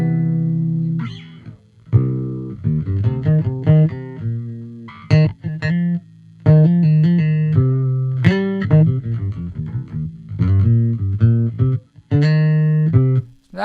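A bass guitar with a clean tone and no effects, bright with strong mids and highs, plays a busy, close, loud riff of plucked and slapped notes with some pauses between phrases. No one talks.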